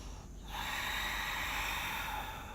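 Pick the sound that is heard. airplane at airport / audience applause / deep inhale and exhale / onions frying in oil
deep inhale and exhale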